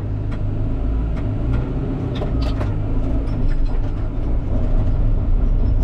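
A dozer with a Trimble Earthworks guidance system cuts earth to an in-field design, its steady loud engine rumble running throughout with rattling, clanking track and blade noises on top.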